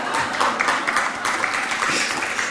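An audience of conference delegates breaks into applause, a dense patter of many hands clapping at close range that holds steady for a couple of seconds.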